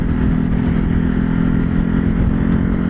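A Yamaha R7 motorcycle engine runs steadily during a ride, giving a loud, close, continuous drone with wind rush and no break.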